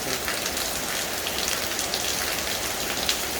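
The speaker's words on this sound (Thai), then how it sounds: "บัดนี้ฝนตก" Heavy rain pours steadily onto a tiled roof, a dense, constant hiss with fine patter and no pauses.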